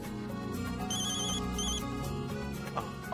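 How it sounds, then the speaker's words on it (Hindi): A phone ringtone rings as a steady electronic melody with repeating chirpy notes, fairly faint against room noise and without talk. "मॉम, अवनी का फोन"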